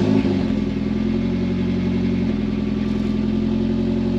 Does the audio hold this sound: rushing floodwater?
no